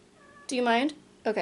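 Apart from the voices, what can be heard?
cat meowing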